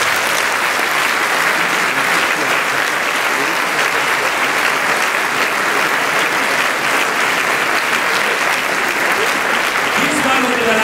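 An audience gives a steady, loud burst of applause to welcome a band onto the stage, continuing without a break.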